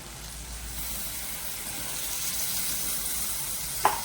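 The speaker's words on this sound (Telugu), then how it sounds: "ఇప్పుడు పాలు పోస్తాను కాసం" Milk being poured into a pan of cluster bean curry as it cooks, giving a steady soft hiss and sizzle that holds evenly throughout, with a brief sharper clink near the end.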